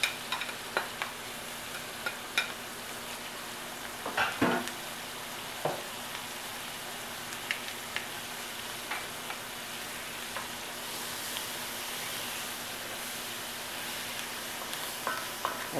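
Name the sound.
onion frying and being stirred in a pan with olive oil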